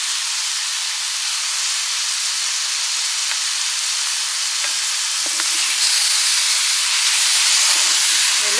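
Cut tomatoes dropped into a hot pan for pepper chicken, giving a loud, steady hiss of sizzling that holds evenly throughout and swells slightly toward the end, with a few faint clinks.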